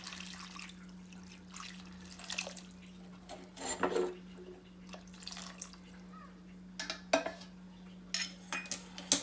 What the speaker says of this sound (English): Now we'll pour some water